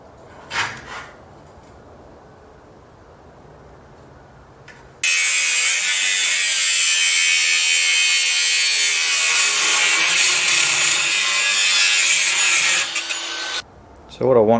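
A power saw cuts through 20 mm square steel tube with a 1.6 mm wall for a motorcycle top box rack, giving a loud, steady high-pitched grinding whine for about eight seconds after quieter handling noises, then stopping abruptly.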